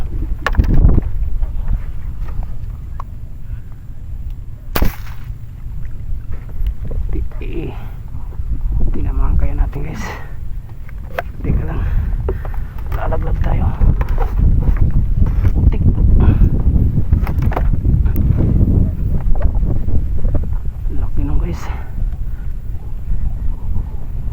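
Strong wind buffets and roars across the microphone for a long stretch, gusting steadily and loudly, with people talking and calling out under it.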